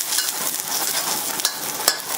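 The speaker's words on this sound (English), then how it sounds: "So just stir fry that for about 15 seconds." Sliced ginger and chopped garlic are stir-fried in a hot wok, giving a loud continuous sizzle broken by quick scrapes and knocks of the stirring utensil, with no voices.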